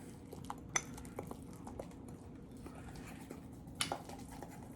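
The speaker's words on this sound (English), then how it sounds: "And then we're gonna mix those together to get kind of like a dough." A utensil scrapes and taps against a mug while oil and flour are stirred into a dough for a microwave mug pizza, faint irregular clinks and soft clicks repeating over quiet room noise.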